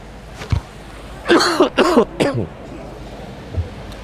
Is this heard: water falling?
no